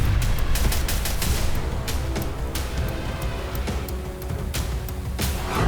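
Dense, continuous barrage of sharp bangs and gunfire-like cracks in rapid succession during fighting in Sumy, Ukraine, loud and sustained with no pauses, heavy low rumble underneath.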